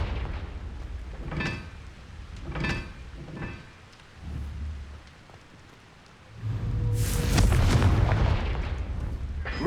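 Confringo blasting spell going off in Hogwarts Legacy, a loud booming explosion with a rumbling, crackling burst that swells and sustains for several seconds after a few earlier softer impacts.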